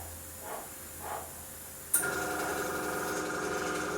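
An airbrush spraying black paint onto a Heljan Class 50 model train: two soft puffs of air, then a sudden steady hissing spray that holds at an even level, close by with no talk.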